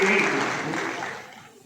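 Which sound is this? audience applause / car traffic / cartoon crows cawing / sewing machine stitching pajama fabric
audience applause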